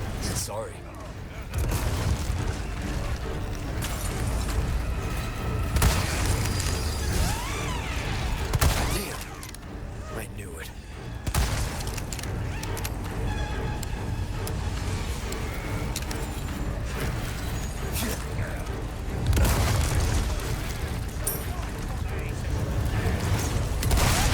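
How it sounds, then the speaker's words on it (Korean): A grenade blast in the video game Resident Evil 4, amid ongoing combat with booms, gunfire and clattering effects under steady talking over about twenty-four seconds. "수류탄 좀 쓸게요"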